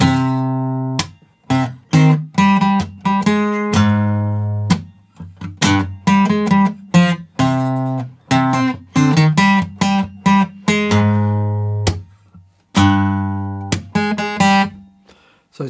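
Guitar playing verse 2 of the My Singing Monsters Plant Island theme, with plucked single notes and chords in a bouncy rhythm, some notes ringing out and decaying, played loud and close with no talking.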